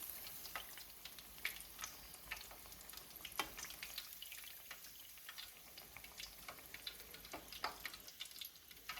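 Chicken pakoras deep-frying in hot oil give a steady, dense crackle and bubbling sizzle, close and moderately quiet, with faint occasional ticks and no voices.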